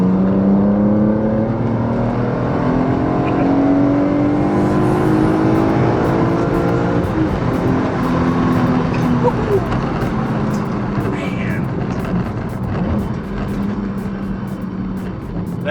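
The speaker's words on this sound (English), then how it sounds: "That S54 is such a gem of an engine, one of the best straight six to come out of BMW's factories." A BMW S54 straight-six with individual throttle bodies runs loud and close, its steady harmonic drone rising and falling through revs with a raspy, racing-car edge.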